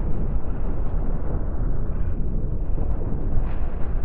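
Missiles bursting against ship shields in the space game Cosmoteer, a loud continuous rumbling roar of layered explosions that holds steady without clear breaks.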